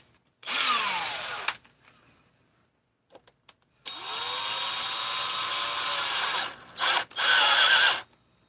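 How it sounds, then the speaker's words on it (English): A power screwdriver whines as it drives a screw in a garage setting, two loud sustained bursts of motor noise separated by a short pause with faint clicks, then a final brief run. "Should have started with the screwdriver."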